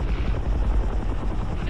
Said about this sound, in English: his chopper's back